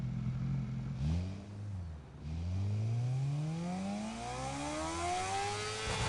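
A car engine in the Need for Speed Unbound video game revs repeatedly, its pitch climbing, dipping and rising again in smooth sweeps, fairly quiet and with no speech.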